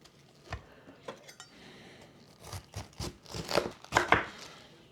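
Knife chopping corned beef on a cutting board, a string of sharp, close taps that start sparse and come faster and louder toward the end, alone without talk.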